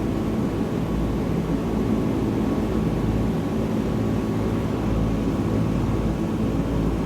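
Steady, droning engine noise from the Caribou aircraft in Microsoft Flight Simulator 2020, flying on a clear day over New Zealand toward Milford Sound, constant and loud throughout with no talk.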